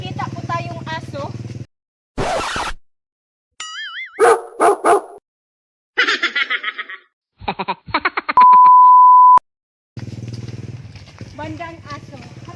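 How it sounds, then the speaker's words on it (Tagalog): A dog barks among short edited bursts of beeps, dings and clangs, with people talking before and after. "Sa ngayon po ay may nakikita po tayong aso."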